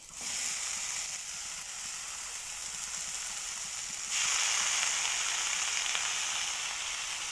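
Chopped jute greens fry in a pan with a continuous close hissing sizzle that swells louder partway through, with no talking.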